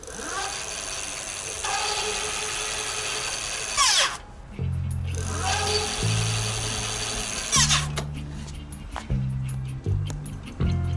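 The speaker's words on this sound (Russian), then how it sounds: "Когда мы включаем моторчик, на газ давим." Electric hub motor of an Eltreco XT 750 e-bike running under throttle, a steady whirring drone with low tonal bands that cut in and out as the throttle is pressed and released, over outdoor wind noise.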